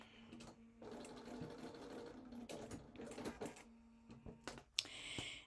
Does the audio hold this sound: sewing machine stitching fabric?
yes